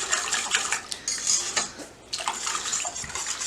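A whisk clatters briskly against a metal or glass bowl as an olive oil chipotle lime vinaigrette is mixed, rapid close clinking strokes with a brief pause midway, no voices.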